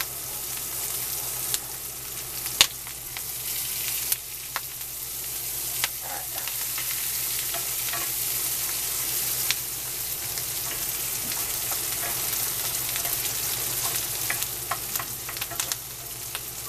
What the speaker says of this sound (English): Now, then I'll mix that right in there with the chorizo and eggs.